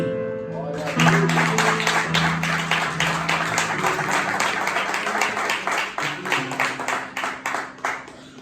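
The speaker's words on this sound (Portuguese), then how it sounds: "Palmas para Jesus" Church congregation claps steadily in rhythm, a brisk run of even hand claps over sustained keyboard music, moderately loud and continuing throughout.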